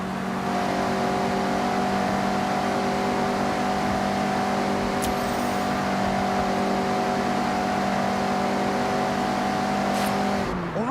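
Mazda MX-5 roadster driven hard through corners in Forza Horizon 6, a loud, steady high-revving engine note held at constant pitch, close and continuous, with a brief rise and drop at the very end.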